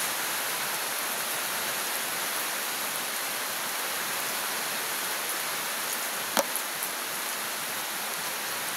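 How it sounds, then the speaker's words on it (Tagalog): Dense, steady roar of heavy rain pouring down outdoors, a continuous broadband hiss that stays loud and unbroken throughout, with one faint brief click near the end and no speech. "malakas yung ulan dito sa amin"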